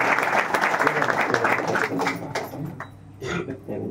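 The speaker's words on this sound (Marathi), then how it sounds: "जोरदार टाळ्या रोहितसाठी" An audience at a student felicitation ceremony in Mumbai claps loudly and steadily for Rohit, the applause dense at first and then thinning out and fading, followed by a brief spatter of further claps.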